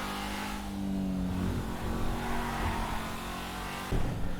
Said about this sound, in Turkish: Turboyla ilk defa araba süreceğim.